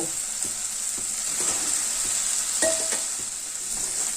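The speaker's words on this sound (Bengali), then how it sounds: "গ্যাসের ফ্লেমটা লোতে রেখে আলু আর মশলা আরও দেড় দুই মিনিট কষিয়ে নেব" Potatoes and spice paste sautéing in oil over a low gas flame, a continuous sizzle and crackle close up with occasional spoon scrapes against the pan, no voices.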